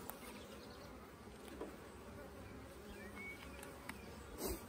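Calm honeybees hum in a soft, continuous drone around an open hive during an inspection, faint and close, with no talk in the stretch.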